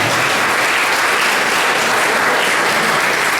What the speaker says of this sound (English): just clap your hands and celebrate the fact that something good is going to happen